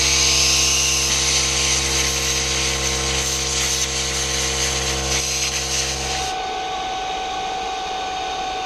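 A plasma cutter slices through 6 mm mild steel with a loud, harsh, continuous hissing roar and steady hum that stops sharply after about six seconds, leaving a quieter residual tone.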